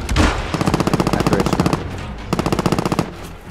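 Two long bursts of rapid automatic gunfire in Warzone, a loud, close, evenly spaced rattle of shots separated by a brief pause, with no talking over them.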